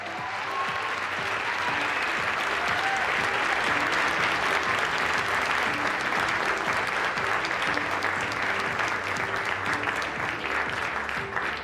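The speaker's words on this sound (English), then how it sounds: "Let's give Caitlin another big round of applause." Sustained, dense applause from a large audience at the White House Correspondents' Dinner fills the room evenly, with a faint murmur of the crowd beneath.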